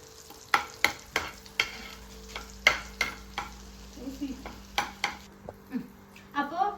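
Butter melts and sizzles softly in a pan for homemade white sauce pasta, with a steady quiet hiss under a dozen sharp clinks and scrapes of a spoon stirring against the metal.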